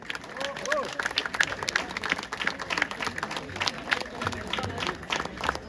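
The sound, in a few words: applause for the godmother at a baptism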